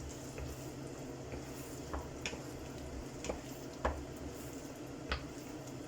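Tuna being stirred into tomato sauce in a pan, a soft simmering sizzle with a few light spoon taps and scrapes against the pan.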